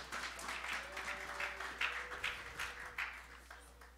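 A church congregation claps loudly together at a French-language worship service, a dense, steady patter of many hands from a full room, with a faint voice and some ringing tones underneath.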